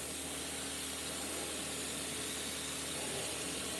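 A spray gun hisses paint steadily across a patterned lowrider panel edged with half-inch masking tape, a close, continuous airy spray with no pauses.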